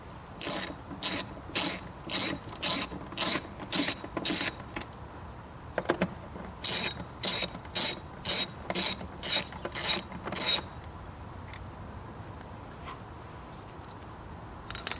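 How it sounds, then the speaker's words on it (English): A ratchet with a 10mm socket loosens the engine cover on a Lexus V8, two runs of quick, sharp clicking strokes in steady rhythm, close and clear, separated by a short pause before the work falls quiet. "So the first thing we're going to do is remove this cover. I'm going to do that with a 10mm socket."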